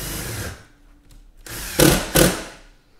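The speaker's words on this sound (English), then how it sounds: "You need to grab your drill." Cordless power drill driving screws or toggle anchors into drywall to mount a speaker, with two short, loud bursts of whirring after quieter handling noise.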